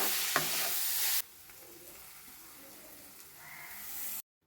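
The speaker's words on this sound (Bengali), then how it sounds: "এটা আগে ভালো করে মাখিয়ে নিই মশলাটা।" Chicken stirred in a frying pan with chili powder, chicken masala, tomato and capsicum over low heat, with loud sizzling and scraping at first, then a quieter steady hiss.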